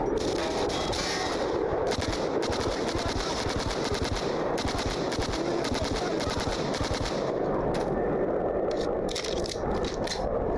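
Sustained automatic rifle fire from the Black Mesa VR video game, a loud continuous rapid rattle of shots filling the whole stretch with no pause.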